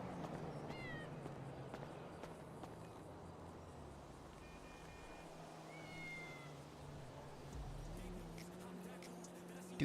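A cat meows several times in a GTA roleplay video game, brief high calls early and midway over a constant low engine drone, with some faint voice activity in the background.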